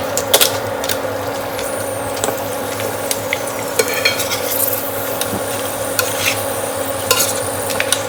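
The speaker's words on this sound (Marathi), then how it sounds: "तुम्हाला पण दाखवते इंडक्शनवरचे पापड कसे तळले जातात" Prawn papad shallow-frying in a little oil on an induction cooktop, giving a steady close sizzle with scattered crackles and small clicks throughout, no voices.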